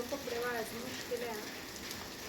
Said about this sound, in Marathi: पाऊस चालू आहे आमच्याकडे